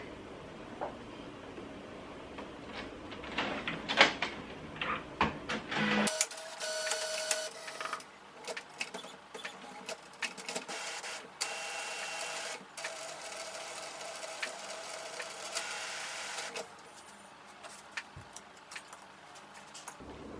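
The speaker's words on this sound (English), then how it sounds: "let's prepare the printer. We need to turn this on" An Epson WF-3620 inkjet printer powers on and runs its startup cycle: quiet clicks and taps, then a steady mechanical whir and hum for roughly ten seconds before settling down.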